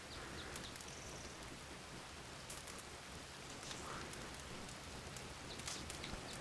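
Steady rain falls in the Red Dead Redemption 2 game world, a soft, even hiss of drops on surfaces with occasional faint sharper patters, quiet and continuous with no voices.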